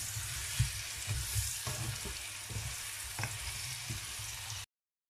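Potatoes frying in a pan, a steady close sizzle with occasional soft stirring knocks, heard alone at moderate volume before cutting off.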